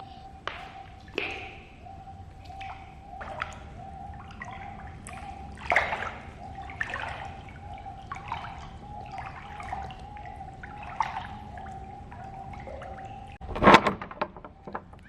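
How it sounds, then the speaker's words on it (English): A foot splashes gently in an echoing indoor pool, making scattered soft drips and sloshes over a steady faint hum, with a louder splash near the end. "Do you want to hear some ASMR of my foot in the water?"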